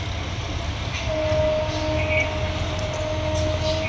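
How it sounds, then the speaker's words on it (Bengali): A train horn sounds one long, steady note from about a second in, fairly distant over a constant rumble of rail and outdoor background noise. "ট্রেনে সিগন্যাল দিতেছে"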